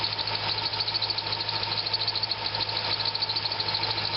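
A Corvette engine idles steadily with a serpentine belt tensioner problem, a loud, continuous engine drone topped by a rapid, even chirping squeal that repeats the whole time, with no voices.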